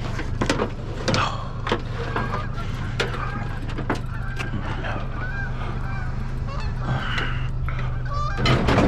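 Geese honk and call repeatedly at close range, many overlapping calls in quick irregular succession over a constant low background hum.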